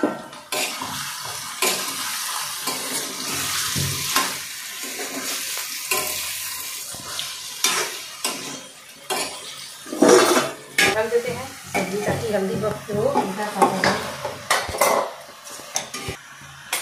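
Vegetables sizzle and fry in a pan over garlic and onion while a utensil stirs and scrapes against the metal, with clinks and clatter, close and steady; no talking.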